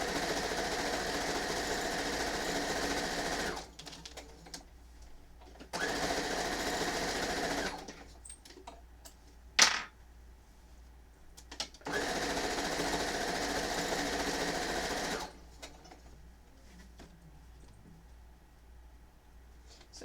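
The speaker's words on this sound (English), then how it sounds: "Now I'm going to sew one of the openings" Sewing machine stitching the opening of a quilt kit, running in several sustained bursts separated by quiet pauses, with a sharp click in between.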